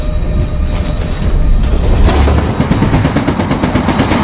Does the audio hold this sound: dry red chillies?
no